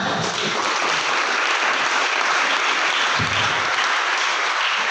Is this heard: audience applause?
yes